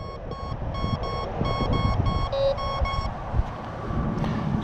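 High electronic tone from a Bounty Hunter Quick Silver metal detector sweeping over a buried US quarter, pulsing in a rapid run of repeated beeps over ground-scrape noise before dropping away near the end.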